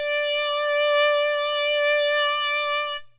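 A sustained buzzy Ana2 synth lead note, recreating the GTA San Andreas lead with a looping sine-wave LFO, rings out steadily with a gentle, smooth movement in its tone before fading out near the end.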